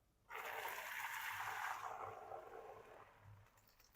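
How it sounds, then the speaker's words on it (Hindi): Rice boiled for six minutes is drained of its water, a steady rushing pour that starts abruptly, holds for a few seconds, then slowly tapers off, fairly quiet. "अब इसको भी मैं पानी में से अलग कर लूंगा"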